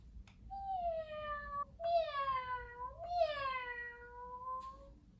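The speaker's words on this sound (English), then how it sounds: "Can you do a cat meow for me?" A cat meows three times in drawn-out, rising-and-falling cries, close and clear over a low background hum.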